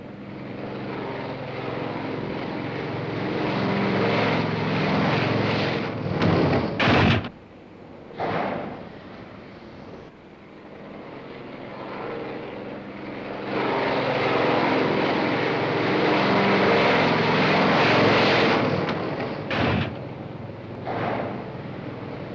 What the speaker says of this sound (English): White flag, land aircraft.